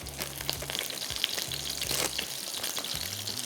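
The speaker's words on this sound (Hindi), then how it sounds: "In the mean time cheese slice भी मेल्ट हो जाएगा और साथ में पैटी भी बेहतरीन पक जाएगी।" A chicken burger patty topped with a cheese slice cooks over a low flame, giving a soft, continuous sizzle and light crackle. Faint low hum pulses run underneath, and nobody speaks.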